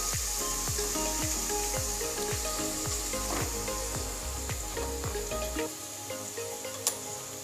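Sautéing in a pan for a spicy Maharashtrian patvadi rassa curry, a constant close sizzle with a dozen rhythmic spoon scrapes against the pan that stop partway, leaving the frying sound alone.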